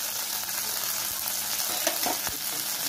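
Tomatoes fry in a pan for semiya biriyani, giving a steady close sizzle with a few soft spoon stirs and scrapes and no talking.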